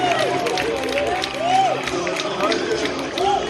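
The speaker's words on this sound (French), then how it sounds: "Mes amis, applaudis tout le monde." A crowd at a lively Haitian gathering claps and cheers while voices call out and chatter through the applause, busy and fairly loud throughout.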